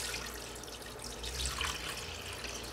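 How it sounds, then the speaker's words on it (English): Water poured from a container into an old-style cooking pot holding extra lean beef for stew, a steady broadband splashing rush that runs close and fairly quiet for the whole stretch, with no talking. "Pour some water in."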